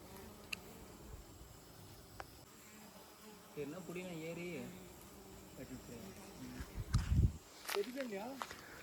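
Bees swarm and buzz over a honeycomb high in a coconut tree, a close droning hum under people talking, with scattered rustles and thumps.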